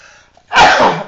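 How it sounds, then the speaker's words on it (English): A single loud sneeze bursts out close by after a short quiet lead-in with faint background tone, its breathy blast lasting about half a second before tapering off. "I'm about to sneeze."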